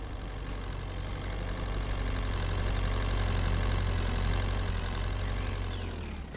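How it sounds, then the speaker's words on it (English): A small John Deere tractor drives up in Farming Simulator 25, its engine a steady, loud low rumble that holds even throughout with no talk. "I bought myself a tractor."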